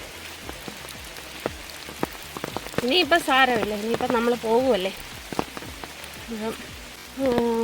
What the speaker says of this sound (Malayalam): നമ്മൾ വനത്തിൽ കൂടെ നടന്നു പോയിക്കൊണ്ടിരിക്കുക കണ്ടോ അപ്പം മഴയായി വീണ്ടും